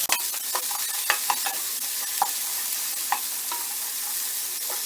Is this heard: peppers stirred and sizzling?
yes